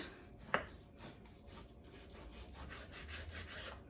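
A knife saws back and forth through corned beef brisket with steady, rhythmic rubbing strokes, quiet and close, after one sharp knock at the start; no talking.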